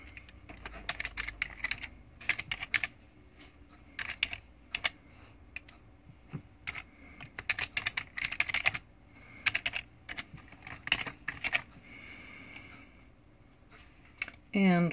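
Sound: typing a password on a computer keyboard

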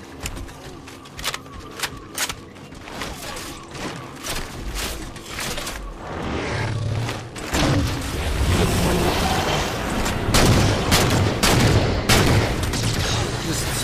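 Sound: DMR rifle gunfire in video game Halo 4

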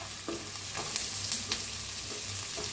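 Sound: onion roasting in a pan for egg curry

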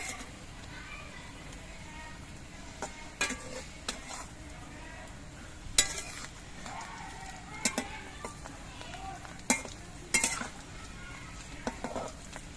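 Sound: pakoras frying in oil

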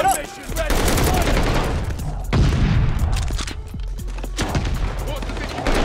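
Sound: gunfire in the video game Call of Duty Vanguard

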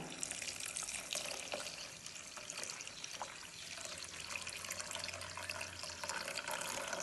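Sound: pouring coconut milk into curry pot

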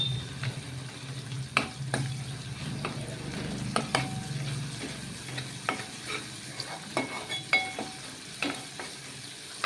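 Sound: ginger and garlic frying in oil, stirred

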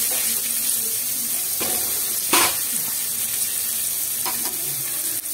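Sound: masala with garlic and chilli frying in pan

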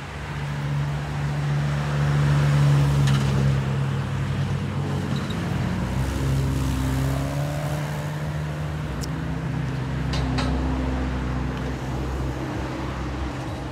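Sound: mail truck driving past

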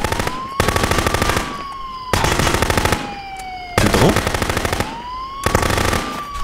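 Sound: gunfire in the video game Contraband Police

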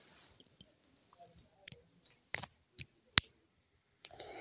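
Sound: dollar coin clicking into place over a quarter

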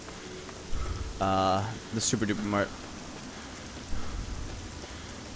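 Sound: rain in the video game Fallout 3

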